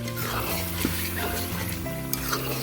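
Duck meat frying in its own oil with spices in a pan, giving a steady close sizzle with light stirring scrapes over a faint tonal hum in the background.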